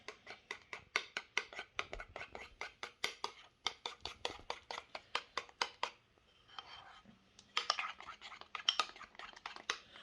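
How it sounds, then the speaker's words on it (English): A spoon stirs almond butter into a mixture, making a close, rapid run of dry scraping strokes in a steady rhythm, pausing briefly before a rougher burst of scraping. "Let's add some almond butter to the mix. About a spoonful or so. Mix it up."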